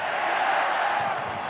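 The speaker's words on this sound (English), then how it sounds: "Now the roar goes up from the crowd" A big stadium crowd roars for the Illawarra Steelers at a 1992 rugby league semi-final against the Brisbane Broncos, a steady, dense wash of cheering and shouting that holds level throughout.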